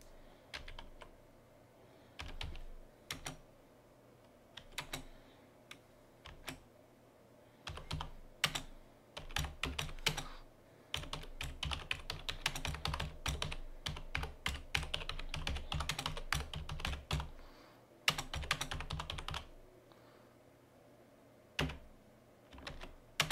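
Computer keyboard typing while Solidity code is written, with irregular bursts of close, crisp key clicks separated by short pauses, alone with no talking.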